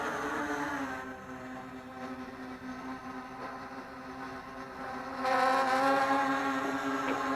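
Steady high-pitched motor buzz from a hovering XK X350 drone with Racerstar motors, droning continuously and growing slightly louder toward the end.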